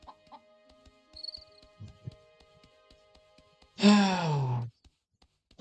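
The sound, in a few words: chickens in video game My Time at Portia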